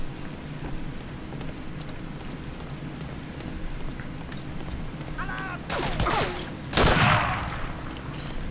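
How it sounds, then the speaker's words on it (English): Mortar fire during a World War II battle in Berlin in Medal of Honor Allied Assault: Spearhead, a steady rumbling backdrop of distant battle broken by two sharp, loud blasts near the end. "Another mortar."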